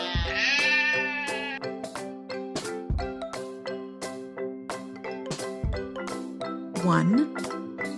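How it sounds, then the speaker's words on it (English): A sheep bleats with a wavering cry near the start, set over a steady backing of bright, bell-like musical tones with a regular pulse. "3 sheep."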